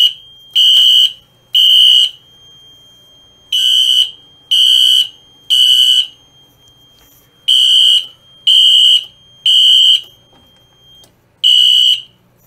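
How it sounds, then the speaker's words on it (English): A Notifier AFP-200 fire alarm panel sounds in loud, piercing electronic beeps, grouped in threes with short pauses between groups, with a faint steady tone underneath. "The pre-alarm goes off and it should be going into alarm any second now."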